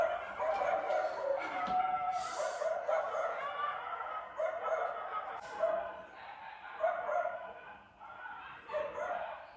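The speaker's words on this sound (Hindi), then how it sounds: "ये कुत्तों की आवाज़ बंद ही नहीं होती है." Street dogs bark and yip at night, a ragged overlapping chorus of several animals with whimpers and short howls, moderately close and rising and falling in bursts, with a voice briefly heard among them.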